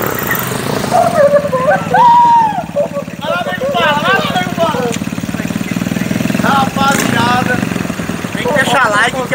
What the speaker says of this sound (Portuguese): uma bicicleta, um motor de moto, feito de sucata